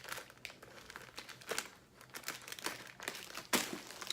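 Box packaging for a hair unboxing is opened, giving close, soft bursts of crinkling and rustling in irregular clusters, some sharper crackles standing out, with no one talking.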